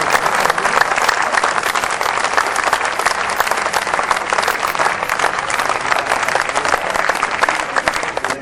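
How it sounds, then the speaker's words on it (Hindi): Loud, dense applause from a large audience welcoming poets at a Kavi Sammelan, sustained and even throughout with no break. "जोरदार तालियां हैं खुश आमदीद के लिए।"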